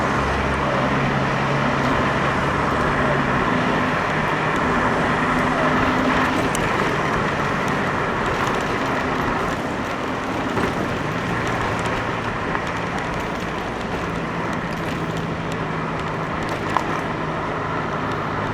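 A car driving on a road behind a smoking vehicle near roadworks, then overtaking it, with a steady loud engine and road roar heard from inside that shifts slightly midway. No distinct voices stand out.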